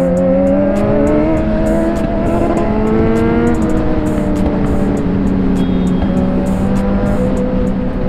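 A Kawasaki Z900 motorcycle engine revs hard and steadily for a wheelie, a loud, continuous rising and falling drone with rapid throttle blips up close, and no talk over it.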